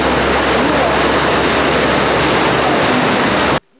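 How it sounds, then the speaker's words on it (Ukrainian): Floodwater after heavy rain runs along a submerged street in Zakarpattia, a steady close rushing wash like a stream that holds constant, then cuts off abruptly near the end. "Вода стоїть у дворах та тече дорогами."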